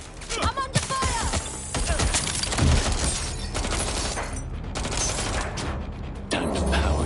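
Gunfire in the video game Watch Dogs Legion: dense bursts of shots and impacts crackle loudly and continuously, with speech mixed in at times.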